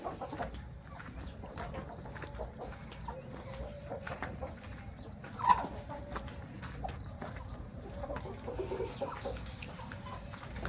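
Hen clucking on a farm shed where birds sit on nests of eggs, faint and intermittent against a steady rural background with a brief louder call midway.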